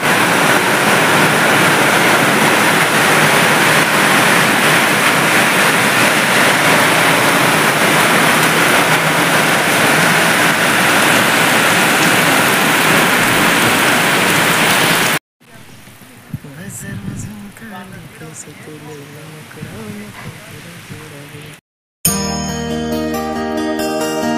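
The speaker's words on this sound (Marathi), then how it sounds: "खूप जोरात पाऊस चालू झालेला आहे इकडे" Heavy rain pours down over open farm fields with steady, loud, dense hiss and roar for about fifteen seconds, then quieter sounds follow with some talking and music.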